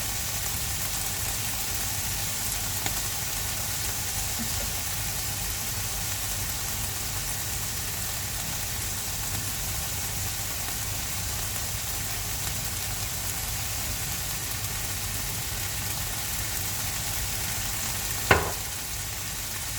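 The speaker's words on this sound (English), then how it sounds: "Now I'm going to add in my balsamic. This is aged balsamic." Aged balsamic vinegar sizzles in a hot pan with broccoli, a low, even hiss that holds steady throughout, with a brief clack near the end.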